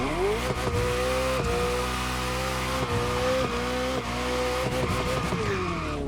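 A Ferrari F40 in the racing game The Crew Motorfest accelerates hard down a runway straight, its engine note climbing steadily through gear after gear with brief dips at each shift, loud and continuous with no talking.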